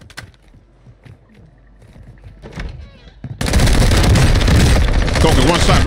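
Rapid fire from a Fennec submachine gun in the Warzone game on the Vondel map, a sudden dense, loud burst that runs for a few seconds after quieter clicks and movement sounds.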